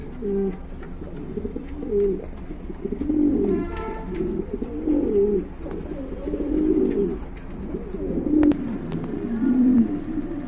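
German Beauty Homer pigeons coo repeatedly at close range, several birds overlapping in low, throaty, rolling calls over a steady background, with no talking.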